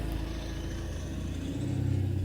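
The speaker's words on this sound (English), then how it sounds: "That truck rolling by amplifies that." A truck rolls past outdoors as a low, steady engine rumble that swells slightly toward the end, fairly close and continuous, with no voices.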